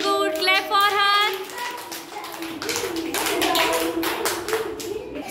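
A group of children claps together in a classroom, a quick burst of hand claps at the start and a second round of scattered clapping later, with an adult's voice in between.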